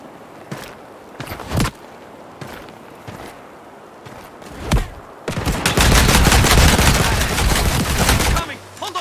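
Gunfire in the war video game Land of War, with scattered sharp single shots followed by a sustained rapid burst of automatic fire, loud and close.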